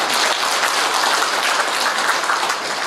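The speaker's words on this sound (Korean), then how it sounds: "오늘 박수 한번 부탁드리겠습니다" Audience clapping at a Korean Agent Orange veterans' association branch anniversary evening event, a dense, even wash of applause that stays loud throughout.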